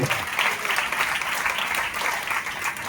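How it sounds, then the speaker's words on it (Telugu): A church congregation at a Sunday service at Messiah Temple in Pedakakani claps loudly and steadily in a dense, sustained round of applause that lasts the full few seconds. "చప్పట్లు గట్టి గట్టిగా దేవుడికి స్తోత్రం."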